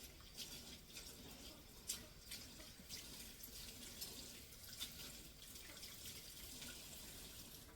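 Tap water runs at a washbasin while a coffee-powder face pack is rinsed off, a faint, steady hiss of flowing water with small splashes throughout and no talking.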